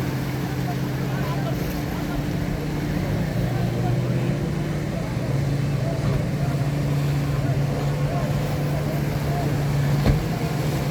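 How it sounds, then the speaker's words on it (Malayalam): Several fishing boats tow another boat with ropes at sea at Muthalapozhi, heard as a steady, droning engine hum with a low mechanical tone and wind noise, while people talk over it. "മൂന്നാല് ബോട്ട് വന്നിട്ട് ഇങ്ങനെ വലിച്ചു വയ്ക്കുന്നുണ്ട്."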